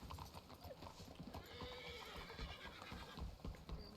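Horse hooves clip-clop steadily in a Red Dead-style Wild West roleplay game, a continuous rhythmic patter with an occasional whinny mixed in, fairly close and dense throughout.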